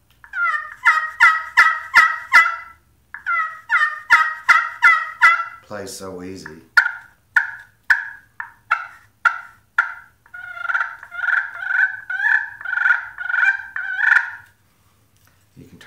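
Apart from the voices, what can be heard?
slate pot turkey call yelping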